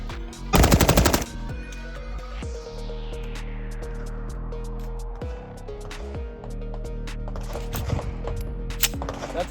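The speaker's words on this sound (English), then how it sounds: "let's see how it bump fires with some brass case ammo" An IWI Z-15 AR-15 rifle is bump-fired with brass-case ammunition, giving one rapid, loud burst of closely spaced shots near the start, followed by echoing quiet with faint clicks and handling noise.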